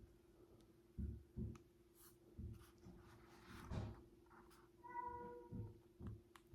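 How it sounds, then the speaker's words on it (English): A house cat meows faintly in the background of a quiet room, a short drawn-out call near the end amid scattered soft thumps and handling clicks. "My cat's meowing in the background."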